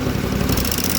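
Bandit ZT1844 tracked stump grinder engine running loud and close, its steady mechanical roar rising slightly as the RPM climbs over the full second, with no voices.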